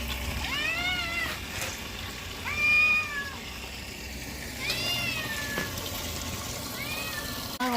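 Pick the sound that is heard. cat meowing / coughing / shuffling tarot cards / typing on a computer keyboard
cat meowing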